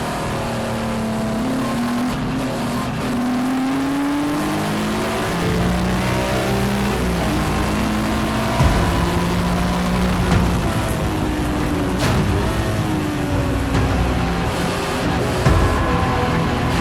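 Race cars pull away from the grid at Donington Park, their engines loud and rising in pitch as several cars accelerate together, sustained and close, with no talk.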